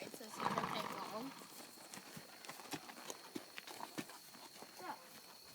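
Hooves of a long-striding quarter horse walking in a riding arena: soft, irregular thuds and light clops at a moderate distance, quiet and partly under a person's spoken instructions.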